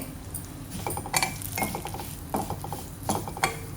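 A spatula stirs crushed dry fruits and poppy seeds roasting in a pan, giving close, irregular scraping and clinking strokes over a low, steady background.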